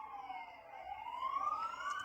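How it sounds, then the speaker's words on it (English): A police siren wails in a continuous rising sweep, moderately distant and steady over a low background hum, with no voices. "Siren the whole time"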